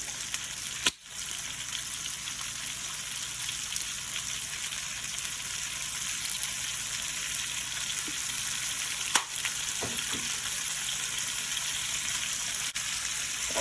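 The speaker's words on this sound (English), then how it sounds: "now I'm just mixing the salt and pepper and potatoes" Potatoes seasoned with salt and black pepper sizzle steadily in a frying pan, with a few soft scrapes and knocks as they are stirred; the frying hiss is continuous and fairly close, with no talking.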